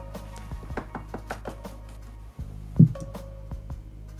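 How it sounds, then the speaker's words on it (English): Knocking on wood during a podcast conversation: a series of quick, light, hollow raps in uneven rhythm, close to the microphone, with faint voices and a low hum underneath. "Knock on wood."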